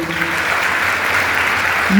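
Audience applause at a women's organisation gathering in Kheda district, a loud, dense crowd clapping that swells and holds steady throughout, heard right after a speaker's voice fades.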